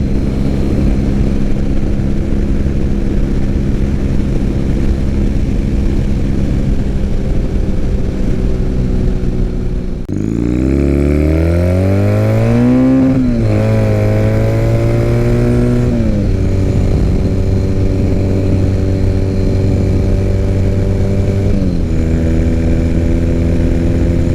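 A 2006 Triumph Bonneville, just brought back to running, rides down the road with a loud, steady engine drone. Midway it revs up through rising, shifting tones and then settles into a strong, even cruise.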